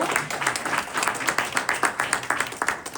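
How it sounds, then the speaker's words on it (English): An audience applauds steadily at a live event in Greenburgh, with dense, continuous clapping at moderate level throughout and no talk over it. "Let's give Gina Jackson a round of applause"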